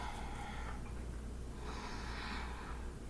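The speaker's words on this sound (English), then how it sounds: "But I come back to my Ujjayi breathing." Ujjayi yoga breathing, deep breaths drawn in and out through the nose, sounds as slow, airy, rasping breaths close to the listener over a steady low hum.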